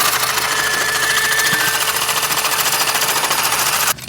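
A rusty hard pipe fitting on a Nissan 300ZX Z32 gets cut off by a power tool, a steady buzzing rasp running close and loud for about four seconds before breaking off abruptly at the end.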